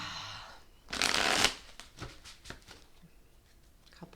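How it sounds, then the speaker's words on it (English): Tarot cards are shuffled close up in one loud, crisp riffling burst, followed by a few soft taps and shuffles in a quiet room. "Couple more shuffles."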